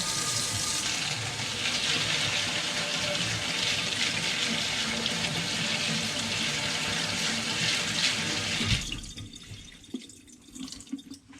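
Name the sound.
tap water rinsing sprouting seeds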